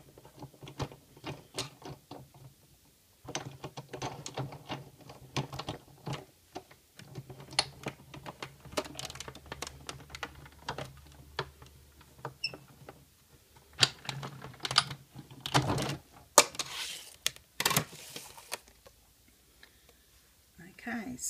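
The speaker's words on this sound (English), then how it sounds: "we just run that through the big shot." A Big Shot die-cutting machine feeds card with a butterfly framelit through its rollers, giving a long run of close clicks and ratcheting taps in uneven bursts, quiet between louder stretches.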